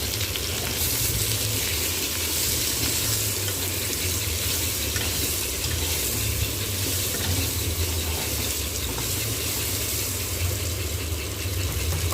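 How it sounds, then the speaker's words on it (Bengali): Potatoes frying in hot oil with salt and turmeric give off a dense, continuous sizzle that stays loud and even throughout, with no talking. "আলুগুলো একটু নুন হলুদ দিয়ে ভেজে নেওয়ার পর ভালো করে ভেজে নেব।"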